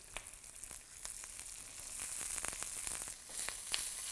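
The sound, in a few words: cauliflower and onion frying in a pan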